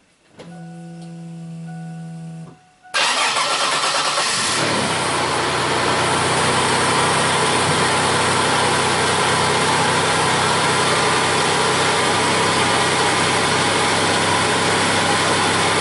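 Car engine being cranked and started during a battery test: a short cranking whir, then a sudden catch into a loud, steady idle that runs on alone for the rest of the clip.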